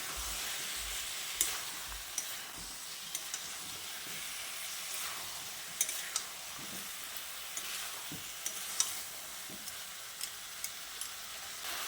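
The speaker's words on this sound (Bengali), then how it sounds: "ম্যারিনেট করা এঁচোড়টা দিয়ে মশলার সঙ্গে খুব ভালো করে মিশিয়ে নিতে হবে।" Marinated jackfruit is stirred and fried with spices in a pan, a soft, steady sizzling hiss at low volume with occasional clicks and scrapes of a spoon, close by and without speech.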